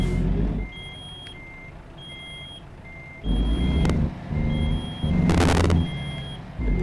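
A truck in American Truck Simulator reverses, its backup alarm sounding a steady series of evenly spaced beeps over a low engine rumble, with loud bursts of air hiss near the end.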